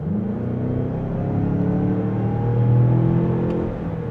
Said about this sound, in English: Plenty of highway on-ramp acceleration.